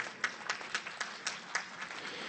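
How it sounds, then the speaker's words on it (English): Conference audience applauding in a hall, a fairly faint, steady patter of many hands with a few sharper claps standing out, continuing throughout. "a big round of applause for him"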